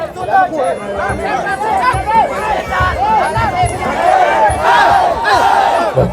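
Rival cheering sections roar at a southern Isan Muay Thai bout, a loud crowd chanting and shouting in rising, rhythmic bursts that fill the whole stretch.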